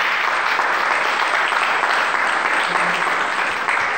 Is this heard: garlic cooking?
no